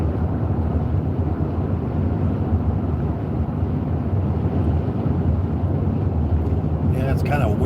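Wind buffets a moving vehicle on a road trip, a steady low rumbling roar that runs the whole way, with a voice breaking in briefly near the end.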